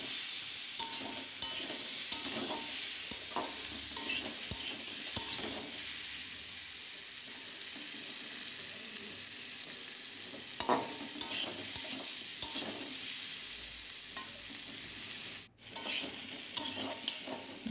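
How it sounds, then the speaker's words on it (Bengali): Pumpkin pieces fry in a pan and are stirred repeatedly, a continuous close sizzle broken by scraping, clattering spatula strokes over a long stretch, with no talking. "দেখো, এবার কিন্তু কুমড়োগুলো যেমন ভাজা হয়েছে তেমনি অনেকটা সেদ্ধও হয়ে গেছে।"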